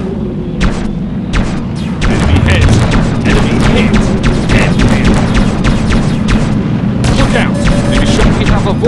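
Space shooter game combat: rapid volleys of weapon fire and booming explosions over a constant low rumble, loud and dense throughout, with a voice calling out now and then.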